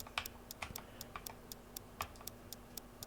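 Someone types on an unusual computer keyboard, quiet irregular key clicks tapping in quick bursts, close and soft, with no talk.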